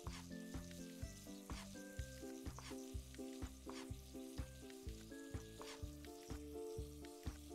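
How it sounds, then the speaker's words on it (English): Mushroom risotto sizzles and fries in a restaurant cooking video game, a steady bright crackle over a looping rhythmic music bed, with no talking. "Mushroom rotisserie is cooking."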